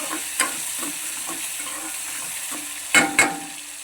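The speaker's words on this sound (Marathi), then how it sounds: "टाकूया कांदा टोमॅटो, चांगला परतून घेऊया आपण मस्त एकदा" Onion and tomato fry in oil in a pan while being stirred: a constant low sizzle broken by soft scraping strokes and two sharper clanks of the spoon near the end.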